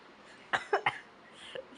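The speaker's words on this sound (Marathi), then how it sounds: "मला खोकला येत आहे" Three quick coughs in close succession, followed by a smaller fourth cough, near and fairly soft against a quiet background.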